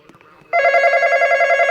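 A phone rings loudly in a Roblox horror game: after a quiet start, a bright electronic ring with steady warbling pulses begins abruptly and continues to the end.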